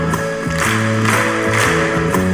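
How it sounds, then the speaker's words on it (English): Hands clap in a steady rhythm over bright music with singing, a group clapping along at a regular beat. "Everybody clap."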